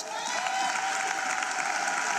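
Audience applause breaks out for a school award winner at the 2024 matric results announcement, a dense, steady clapping that fills the whole moment.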